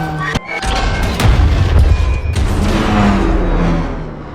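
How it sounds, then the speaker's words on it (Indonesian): A bomb explosion in an action film thuds heavily after a sharp opening crack, followed by a dense, rumbling roar of debris and blast noise that stays loud for several seconds. "penjaga yang pintar melemparkan bom ke beton-beton"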